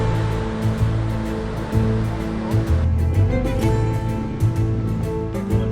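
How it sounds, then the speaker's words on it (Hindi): Steady rushing wash of sea surf at Diu, India, with broad noise throughout, continuous and fairly loud, with a low rumble underneath and no voices. "समुद्र की लहरें यहाँ से हमें महसूस हो रही है"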